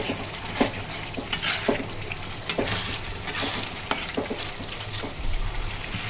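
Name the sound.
stirring and frying spice masala for spleen curry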